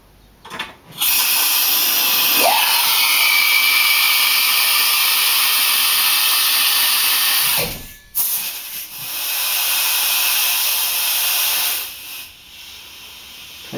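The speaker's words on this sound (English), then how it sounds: "I'm going to put air into the bottom of this to simulate the oil that's leaking out" Compressed air hisses loudly and steadily into the bottom of a hydraulic cylinder on a blowout prevention cap concept, running in two long bursts separated by a brief pause, with small clicks and shifts as the flow changes.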